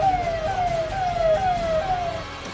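Ambulance carrying a newborn through traffic at Delhi's Singhu border during a farmers' protest, its siren wailing in repeated falling sweeps over road rumble and traffic noise.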